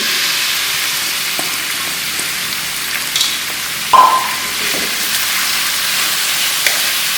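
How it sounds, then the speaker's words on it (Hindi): Half a kilo of minced mutton keema fries in about four tablespoons of hot oil in a kadhai, giving a steady close sizzle with a brief clank partway through. "जैसे हमारा ऑयल गर्म होता है, इसके अंदर हम ये आधा किलो कीमा मटन का ये डाल देंगे।"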